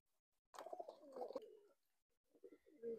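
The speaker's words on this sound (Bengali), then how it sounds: "এই পায়রাগুলো এক এক করে উড়ে চলে যাবে আকাশে" Pigeons coo close by in soft, throaty bursts, one run of calls followed by a pause and then a few more quieter coos, with no talk.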